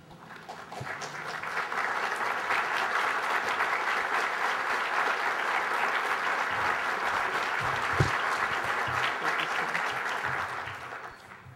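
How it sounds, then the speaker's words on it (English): A large audience at an entrepreneur awards event stands and applauds the chancellor, a dense, sustained wash of clapping that swells quickly, holds steady for several seconds, then tapers off at the end. "give a great round of applause to our Chancellor, Rosemary DiPaolo."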